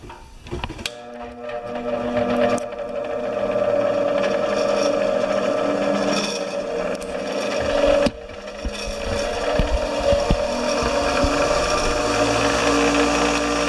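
A valve grinding machine fitted with a fine stone refaces a valve from a 4 HP Tecumseh engine. It switches on after a sharp click and runs as a steady, close mechanical hum with a whining tone and scattered small clicks, with no talk.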